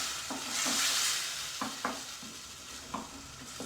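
Black cardamom pod and a bay leaf frying in ghee in a home Uttarakhand-style kitchen, a steady hiss of sizzling with intermittent scrapes and knocks of a stirring spoon against the pan.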